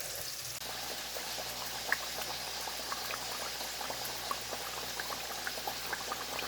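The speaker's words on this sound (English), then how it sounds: "I'm actually oil frying my French fries" Steady, close sizzling and bubbling of french fries frying in hot oil, with small pops scattered throughout and no talking.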